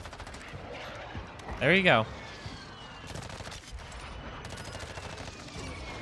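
M13 rifle fire in Warzone, a steady run of quick shots through the whole stretch, with a brief loud tonal sound partway in and someone speaking briefly over it.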